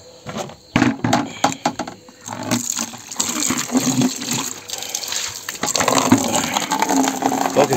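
Water pours and gushes steadily, loud and close, with splashing over a rough outdoor background and no speech.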